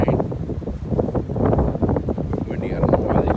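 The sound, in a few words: wind blowing outdoors at deer camp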